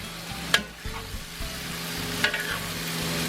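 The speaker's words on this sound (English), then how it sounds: "Stir fry that up a bit." Beef lo mein with thick bucatini noodles stir-frying in a hot pan, a steady sizzle under clattering stirs and two sharp utensil knocks against the pan.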